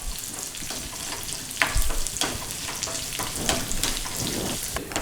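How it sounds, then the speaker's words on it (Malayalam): Chili powder fries in hot oil for a sambar, giving a steady, dense sizzle with occasional louder crackles and scraping stir strokes, close and continuous with no voices. "ഞാൻ അത് കണ്ട മുളകുപൊടി ഇട്ടു, മൂപ്പിച്ചു നന്നായിട്ട്."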